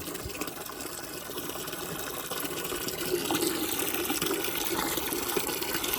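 Water pours steadily from a container into a chicken waterer cup, a faint continuous trickle and splash close by that grows slightly fuller partway through, with no talking.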